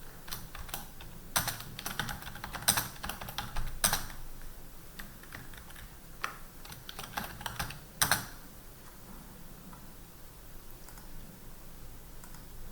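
Someone types an item name on a computer keyboard: quick, uneven bursts of close key clicks that thin out toward the end.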